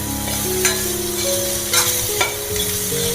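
Chicken liver sautés with curry leaves in a pan, giving a steady close sizzle broken by a few sharp spatula scrapes, with no voices.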